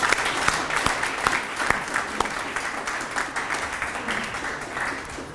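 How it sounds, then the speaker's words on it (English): An audience applauds after an academic lecture, a steady round of clapping from many hands that holds at an even level for several seconds. "can we give her another round of applause?"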